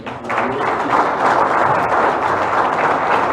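Steady, dense applause from an audience at a football federation election gathering, filling the full few seconds at an even, fairly loud level with no clear individual claps standing out.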